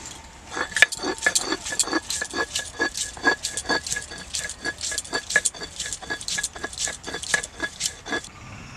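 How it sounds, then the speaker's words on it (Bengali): Ginger being ground by hand on a grinding stone, a rhythmic series of scraping, squishing strokes that repeat steadily and closely, about two per second. "প্রথমে আমি আদাগুলো বেটে নিচ্ছি"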